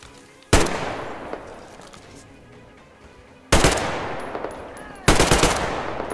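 Three loud gunshot bursts from a weapon in the video game Metro Exodus, spaced a few seconds apart, each striking sharply and then trailing off in a long echoing decay.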